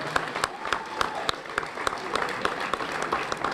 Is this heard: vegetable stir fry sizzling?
no